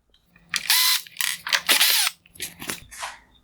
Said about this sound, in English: Next, I will remove the screws holding in the LED ballast.